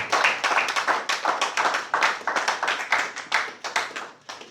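A church congregation claps together to acclaim God, a dense, steady stream of hand claps with a loose rhythmic pulse that carries on throughout.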